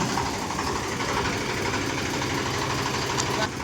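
A diesel tractor engine idles close by, a continuous low rumbling chug with a steady, even pulse and no voices over it.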